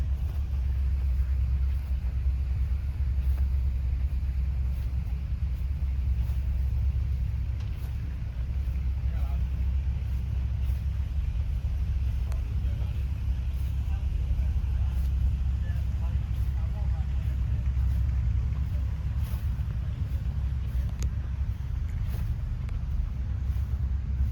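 John Deere 4020 tractors idling at an old threshers reunion, a low continuous engine rumble throughout with faint voices in the background.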